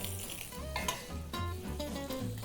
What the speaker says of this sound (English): I will start from adding a little bit of butter to the pot.